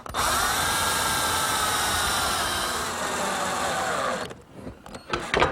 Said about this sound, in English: pre-drill a hole, and attach it with a screw